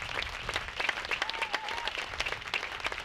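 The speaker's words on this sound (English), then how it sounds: "Can we get a round of applause for that?" Applause from an audience at a military change of command ceremony at Marine Corps Air Station Yuma, fairly faint and distant, with scattered sharp claps rising above a softer crowd of clapping.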